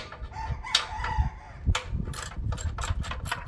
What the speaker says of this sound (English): I'm going to take off one of these bolts